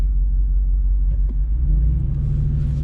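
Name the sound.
loud Jeep V8 exhaust rumble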